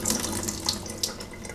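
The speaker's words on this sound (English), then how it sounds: "So I'm going to go ahead and drain those off." Brine from a jar of marinated artichoke hearts runs off in a steady pouring stream, close and continuous, like water splashing from a tap into a sink.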